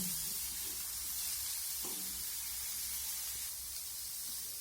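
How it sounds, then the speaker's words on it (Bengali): Grated cauliflower frying over a high gas flame, a continuous hissing sizzle with a few soft stirring scrapes, close and steady throughout, no voices. "গ্যাসের ফ্লেমটা আমি হাইতে রেখে ফুলকপিটাকে নেড়ে চেড়ে ভেজে নেব।"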